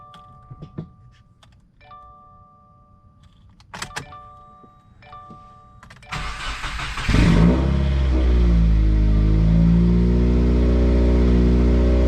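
A Subaru WRX under repair starts up: a few clicks and chimes, then the starter cranks, the engine catches with a surge and settles into a loud, steady, close idle.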